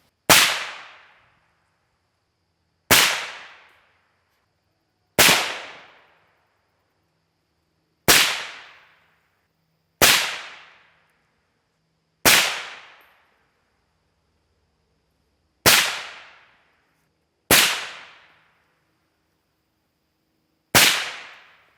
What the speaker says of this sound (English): firing some rounds suppressed with our Yankee Hill Phantom M2